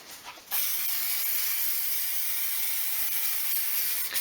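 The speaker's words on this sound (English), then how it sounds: "Just do a little spraying on there." A steady, loud hiss of contact adhesive spray on a workshop chair being reupholstered starts abruptly and continues evenly for several seconds before cutting off.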